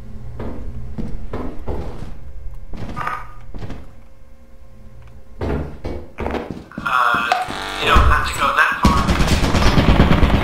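Metallic thunks and bursts of rapid automatic fire from turrets in the horror co-op game Lethal Company, spaced shots building into a sustained loud volley near the end, with voices talking in between.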